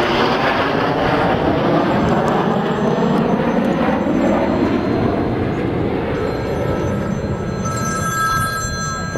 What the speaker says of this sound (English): The Red Arrows fly the BAE Systems Hawk T1